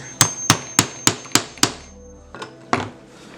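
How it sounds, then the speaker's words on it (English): Six sharp metallic hammer blows drive spikes through leather for a knife sheath in a steady rhythm, close and loud, followed by two more spaced strikes after a short pause. "and hammering the spikes through it here."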